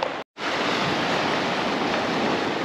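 Sea waves wash steadily onto a beach in Yalta, Crimea, a loud close broadband surf hiss broken by one brief cut near the start.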